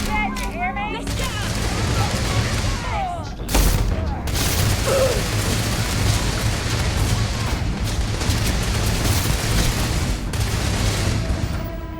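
Heavy gunfire in Starfield crackles in a thick, sustained barrage with booming impacts layered over it. A sharp blast stands out early on, and voices can be heard beneath the din throughout.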